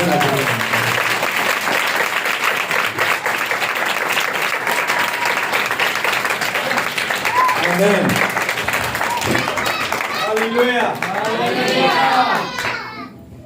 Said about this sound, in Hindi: सब तालियां बजाएंगे।